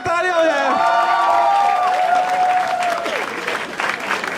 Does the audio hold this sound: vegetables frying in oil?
no